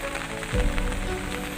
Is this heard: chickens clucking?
no